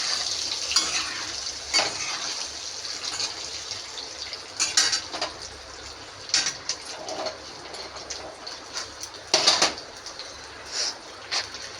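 Eggs frying in a pan for a home-cooked egg curry, a constant sizzle with scattered sharp spatters and occasional clinks of utensils, no talk.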